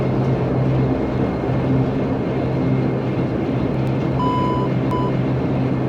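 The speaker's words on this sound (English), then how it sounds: "Takeoff warning test." Brief electronic warning tone sounding twice in a Majestic Q400 turboprop cockpit in FSX during a takeoff warning test, short beeps over the loud steady engine drone.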